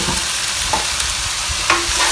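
Cooked lentils being stirred into a vegan taco mixture in a pan, a few scraping stir strokes over a low, steady sizzle, heard close with no talking.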